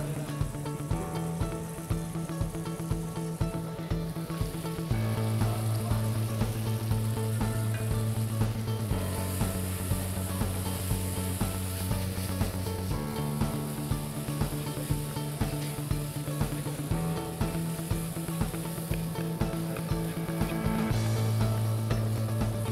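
Shredded coconut sizzling in a pan at a Balinese food event, a steady crackling fry that runs throughout, close and even, over a low droning backdrop of music.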